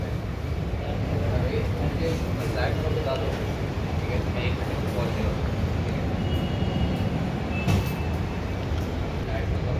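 Steady loud rumble and hum inside a moving air-conditioned metro train with steel seats, continuous throughout, with people talking over it.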